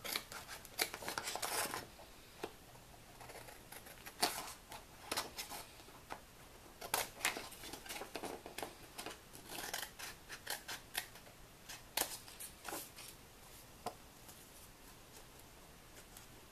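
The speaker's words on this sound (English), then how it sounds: "just take my scissors and cut right along the edge of that tag" Scissors snipping through card stock to trim around the edge of a folding Christmas card tag, with repeated close, crisp cuts in irregular bursts and pauses, quiet and without speech.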